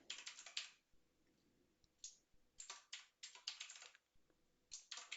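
Quick bursts of clicky keystrokes on a computer keyboard while typing code, in uneven clusters separated by short pauses, close and fairly quiet, with no voice.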